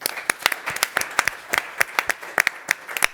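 Scattered hand claps ring out in a loose, uneven rhythm, a modest round of applause from a small group, fairly close and without voices.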